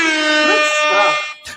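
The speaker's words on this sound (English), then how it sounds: "I begrudgingly will accept my loss and give you the air horns" An air horn sound effect blasts loud and sustained for over a second, with a wavering, bending tone, ending abruptly in a brief final burst.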